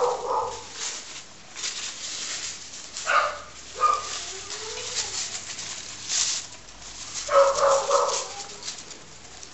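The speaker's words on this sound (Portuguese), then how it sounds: "Cachorro do vizinho latindo." A neighbour's dog barks in short, scattered bursts at moderate distance, with a few louder yaps separated by quieter gaps, and faint bird calls mixed into the background.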